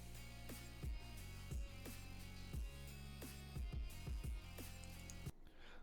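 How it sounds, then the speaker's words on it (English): Hyperpunk-style instrumental beat with heavy pulsing bass hits, a repeating bright synth melody and dense electronic layers playing steadily and loudly, cutting off abruptly near the end. "Okay, so I found a beat I liked here, hyperpunk type beat."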